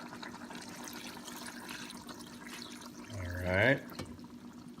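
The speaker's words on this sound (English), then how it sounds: "we're gonna add a little of beef broth." Beef broth is poured into a pot of tamarind beef soup, a short gurgling fill that rises briefly over a quiet kitchen background, with a brief spoken remark just before.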